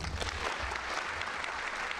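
At a virtual school graduation ceremony, a crowd claps for the salutatorian, a soft, somewhat distant patter of hands that continues evenly through the short stretch.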